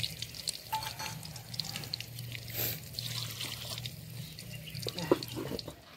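Spiced water rinsed from a bowl is poured into a pan of cooking masala, a soft running, trickling splash with a few drips against a low background hum.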